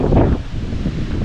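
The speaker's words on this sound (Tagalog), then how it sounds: "ang lakas-lakas ng hangin" Strong outdoor wind gusting and buffeting hard against the microphone, a loud rumbling roar that swells at the start, eases slightly, then keeps blowing steadily.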